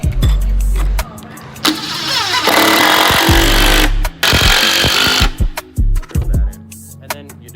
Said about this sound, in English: So we'll grab the drill.